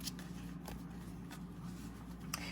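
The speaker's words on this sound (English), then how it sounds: "Here I shuffle until it feels right" Tarot cards are shuffled by hand, giving soft, faint riffling and sliding bursts at irregular intervals over a quiet background.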